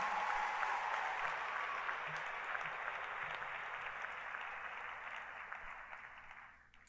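Sustained audience applause fills a large hall at a spring university commencement for undergraduates, steady and broad for several seconds before tapering off at the end.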